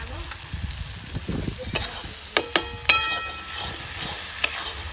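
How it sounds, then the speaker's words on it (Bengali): Spice masala of Kashmiri chili powder and salt sizzles steadily in hot oil in a pan, with a few sharp scrapes and clacks of stirring near the middle of the steady frying hiss. "মশলাটা ভালো করে আমি ভেজে নেবো"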